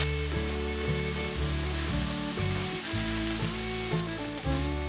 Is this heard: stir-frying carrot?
yes